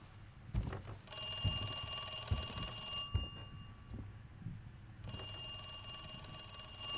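A telephone rings in Resident Evil 2 Remake, two clear, sustained bell-like ring bursts separated by a pause, over quiet game ambience with faint footsteps.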